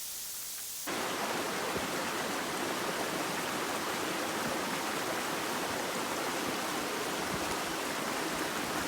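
A mountain stream in the White Mountains rushes over rocks, a dense, steady hiss of flowing water that starts abruptly after a short quieter moment and continues evenly and close by.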